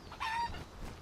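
Short, loud chicken cluck from a video game, a quick burst of bright, pitched squawk that fades into faint background noise.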